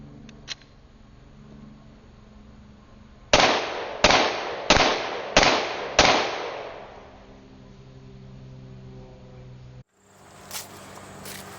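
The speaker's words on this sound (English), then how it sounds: "I'm now back to a distance of 50 feet. I'm going to try a few shots from here" Five sharp gunshots ring out from an MCK setup at a 50-foot range, evenly spaced about a second apart, each loud crack followed by a short echoing decay, then a faint click and rustle.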